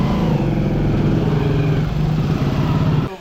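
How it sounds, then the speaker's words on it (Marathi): A motorcycle engine drones close by in a narrow stone-lined lane in Jaisalmer, a steady mid-pitched buzz that holds, then cuts off abruptly near the end. "मोटरसायकल चली जायगी भाई."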